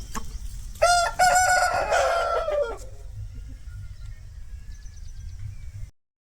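A fighting-breed rooster gives one loud, close cock-a-doodle-doo crow with a few clucks. A quieter farmyard background follows and then cuts to silence.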